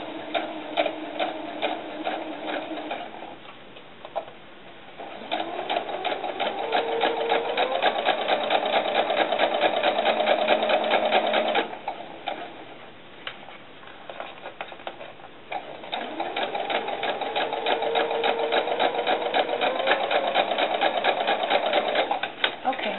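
Sewing machine stitching the sleeve of a doll sun dress, a rapid, steady mechanical ticking whir in close bursts that pause and resume, with a person talking between and over the runs.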